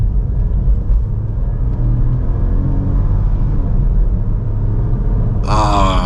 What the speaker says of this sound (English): the response on that EcoBoost engine